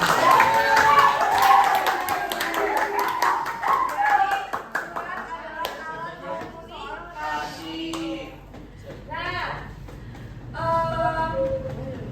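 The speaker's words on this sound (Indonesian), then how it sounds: "Ya, tepuk tangan dulu ya." A class in a microteaching lesson claps hands together, a burst of many overlapping claps that fades away while voices talk and children chatter in the room.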